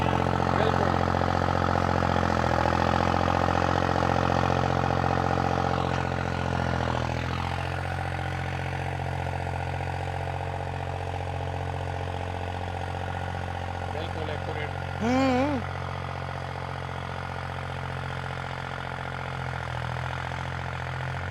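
A modified tractor engine idles with a steady, low mechanical drone that holds throughout, with a faint voice or two occasionally rising above it.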